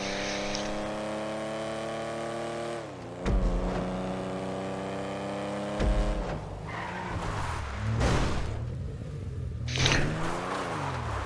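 A car revving hard and accelerating fast along a straight in a driving game, engine pitch climbing and dropping through gear shifts with brief thumps and squeals, loud and steady throughout.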